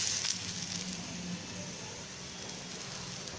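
Ragi roti cooking on a hot pan gives off a soft, steady sizzle at low level, with faint crackling and no voices over it.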